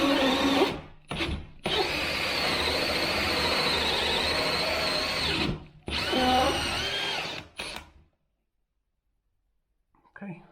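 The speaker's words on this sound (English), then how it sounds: "what I'm going to do now is drill these out with the DAD and the hole cutter" A power drill fitted with a hole cutter bores holes in a ceiling for downlights, heard as a loud close whirring run of several seconds and then a second shorter burst before everything falls silent.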